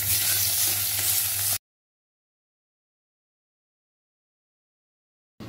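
A tempering of curry leaves, green chili, crushed garlic and ginger sizzling in oil as it is stirred for a coriander dish, a loud close hiss that cuts abruptly to silence, then briefly returns.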